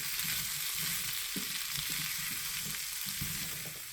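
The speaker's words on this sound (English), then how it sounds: "add in your potatoes, and we're just gonna let it fry up a little bit." Potatoes frying in a pan with fresh thyme, rosemary, oregano and sage, giving a steady, close sizzle with small crackles and pops throughout.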